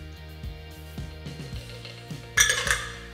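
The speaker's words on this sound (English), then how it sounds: "I double strain my shaking cocktail inside, so that the cucumber stays into my shaker" Cucumber sake-tini cocktail double strained from a metal shaker into a glass, a series of light metallic taps and clinks followed by a brighter ringing clatter near the end, close and alone.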